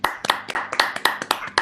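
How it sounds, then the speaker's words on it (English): A small online group claps together through open microphones, giving a handful of sharp, uneven hand claps in quick succession, close and fairly clear. "give yourselves a big round of applause"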